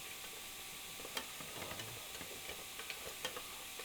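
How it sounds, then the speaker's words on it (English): Scrambled eggs and sausage being stirred in a pan, with a faint sizzle and soft scraping and clicking from the utensil, quiet and close with no voices. "I need to stir it up and make sure that the uncooked stuff contacts the bottom"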